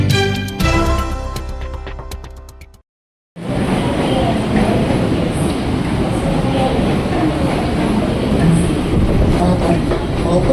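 A KRL commuter train at Tanah Abang station on a weekday morning. A sustained tonal signal gives way to a brief silence, then a loud, continuous rolling rumble of wheels and carriages close by.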